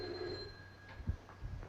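A telephone rings in an old Mr Wong detective film, a steady bell tone heard briefly over a low hum of film soundtrack noise, with faint thumps underneath.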